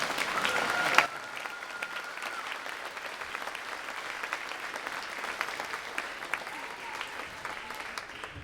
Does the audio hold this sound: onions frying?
no